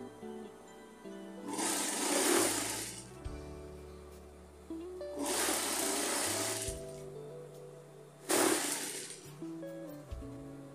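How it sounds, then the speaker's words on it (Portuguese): A sewing machine stitching thick fabric strips slowly for a simple rag rug, in three separate bursts of whirring motor and needle clatter divided by quieter pauses with faint background hum. "Passar devagar a máquina aqui, porque o tecido é grosso, para não correr o risco de quebrar a agulha."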